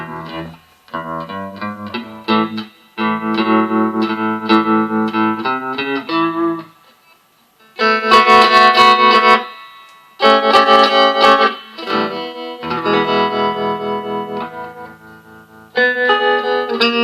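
Electric guitar played through a Vox Pathfinder 15R amp with tremolo and reverb: chords and picked notes pulse in volume with a regular wobble. The phrases stop and start with brief gaps, and no one talks.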